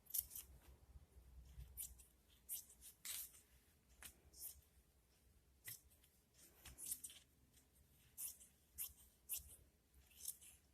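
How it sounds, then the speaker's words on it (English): Scissors cut fabric to extend a blouse, a quiet close series of crisp snipping clicks in an uneven rhythm, each with a soft rustle of cloth, alone without talk. "And now I'm gonna cut the fabric"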